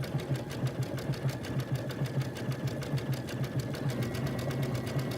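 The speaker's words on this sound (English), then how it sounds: "So we'll try the tail end of this with a feather stitch and see how that looks." Close, steady whir of a sewing machine stitching a feather stitch on fabric, its rapid needle beat running continuously with a low mechanical hum throughout.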